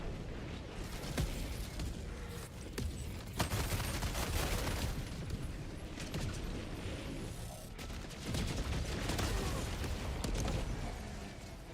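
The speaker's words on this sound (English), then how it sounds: "Firing orbital barrage. Clear the area." Orbital barrage explosions in Helldivers 2, a continuous rolling series of booms and crackling blasts with sharp bursts throughout, dense and fairly distant, with faint voices now and then.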